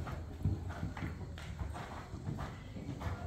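A horse trotting while being ridden during jumping practice, a steady rhythmic clip-clop of hooves under faint background hum, moderately distant and soft.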